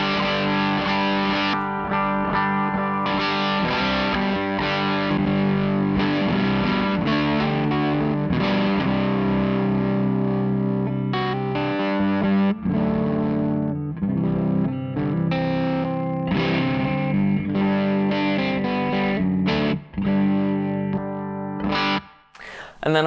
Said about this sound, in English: Most of the time I have it set up like almost like a transparent overdrive thing.